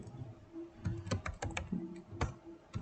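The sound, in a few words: typing on a computer keyboard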